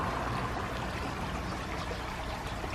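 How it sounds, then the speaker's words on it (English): Water flowing steadily outdoors near Lake Bled in Slovenia, a constant soft rushing wash with no pauses, fairly faint and unbroken. "It's the sound of water."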